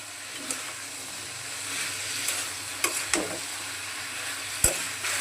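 Taro stolons and jackfruit seeds being stir-fried with spices in a Bengali home kitchen, giving a steady close sizzle broken by a few sharp spatula scrapes against the pan, with no talking.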